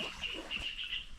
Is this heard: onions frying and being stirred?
no